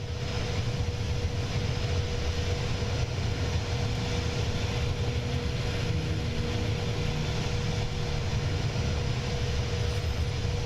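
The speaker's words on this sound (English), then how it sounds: "In case you guys are able to hear some noise in the background, that's an actual aircraft passing overhead." A real aircraft passing overhead, heard as a steady low engine roar that holds at an even level throughout, with no voices over it.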